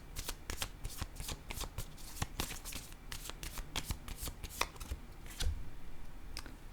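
Tarot cards are shuffled and handled up close, giving a steady run of crisp riffling snaps and flicks with soft papery rustle between them, quiet and without talk.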